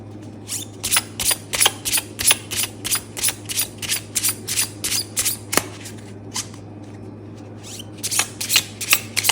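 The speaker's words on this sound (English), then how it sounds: "New deck, I've never used it. It's my first time using it, so I need to do a good hard shuffle." A brand-new tarot card deck gets a vigorous hand shuffle, about twenty crisp rhythmic riffling bursts close to the microphone with a brief pause midway, over a steady low electrical hum and no talking.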